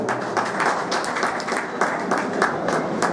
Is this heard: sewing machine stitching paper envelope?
no